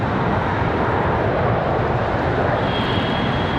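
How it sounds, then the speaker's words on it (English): A Southwest Airlines plane coming in to land at Charlotte Douglas International gives a loud, steady jet engine roar with broad rushing noise, and a faint whine rises near the end. "Hey, we got a Southwest coming in over here."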